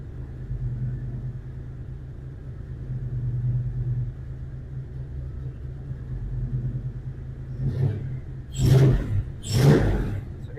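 A car engine fitted with a Holley Terminator X fuel injection, MSD 6A ignition and Chrysler idle air control idles with a steady low rumble, then two sharp revs near the end.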